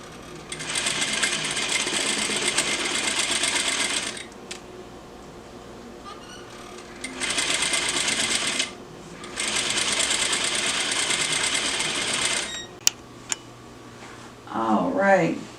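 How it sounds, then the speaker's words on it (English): A sewing machine stitches a drawstring bag in repeated runs of steady whirring, each lasting a few seconds with quiet gaps between them, close and loud, with a short voice at the end. "So I got my lining sewn and my bag sewn."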